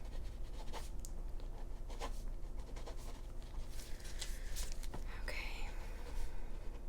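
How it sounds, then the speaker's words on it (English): Soft pen scratching on paper during a quiet doctor roleplay exam, a run of light, close strokes over a steady low hum with faint breathy sounds around them. "So I'm just gonna write that on here really quick"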